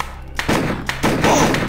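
Nail gun fired in the horror FMV game Harvester: two or three sharp thumping shots spaced about half a second apart, close and punchy over a steady game background hum.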